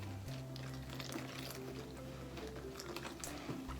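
Salt dough of flour, salt and water is stirred in a bowl, giving a continuous wet squishing and scraping that stays close and fairly even throughout, with no speech.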